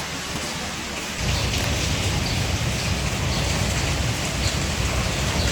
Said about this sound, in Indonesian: ternyata di sana sedang hujan